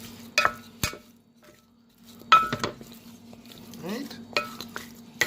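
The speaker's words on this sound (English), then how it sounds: "Then we're going to mix this nicely." Chicken wings being mixed in a black pepper marinade in a bowl for garlic butter wings produce scattered close knocks, taps and wet squishing strokes, separated by near-silent gaps, with someone briefly speaking.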